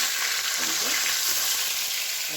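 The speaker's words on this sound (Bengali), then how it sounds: "মাছ ভাজা বসিয়ে দিয়েছি" Fish frying in a pan at home, a steady soft sizzle with faint crackles and occasional stirring clinks, fairly quiet and continuous.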